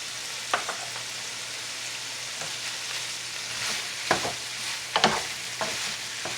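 Sausage and tomatoes sauté in a pan with a steady soft sizzle, broken by a few louder scraping stirs near the end, with no talking.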